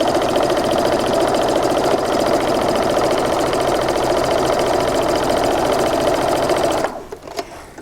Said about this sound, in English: we're just going to sew a 1/4 inch seam right down these two